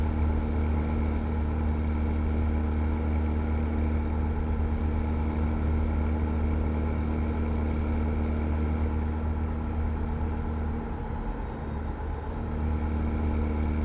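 A Mack truck rated at 800 horsepower drives in American Truck Simulator, its engine holding a steady, loud, continuous drone with a deep low rumble and a faint whine that slowly rises and falls, with no talking.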